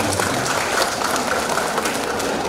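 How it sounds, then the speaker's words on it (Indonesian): An audience at a regency festival speech claps in a steady, dense burst of applause. It fills the whole stretch at an even, moderately loud level, with no clear speech over it. "Tepuk tangan buat ibu dan sekalian."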